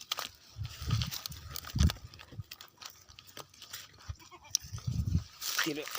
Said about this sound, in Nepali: बाख्रा लिएर जाँदैछु घरतिर हैन।